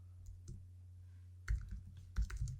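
Sparse computer keyboard clicks while a paragraph is being written, quiet at first, then two denser bursts of several quick keystrokes over a steady low hum.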